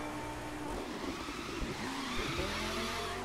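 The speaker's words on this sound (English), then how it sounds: "Do a little drift around that corner, why not?" Car drifting around a corner in the racing game The Crew 2, with a sustained tire squeal and engine drone over steady game noise and music, moderately loud throughout.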